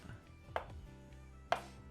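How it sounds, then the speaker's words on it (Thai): Two crisp knife chops on a cutting board in the Cooking Simulator video game, vegetables being cut, spaced about a second apart in a quiet kitchen. "เดี๋ยวเราต้องหั่นมันนะครับผม"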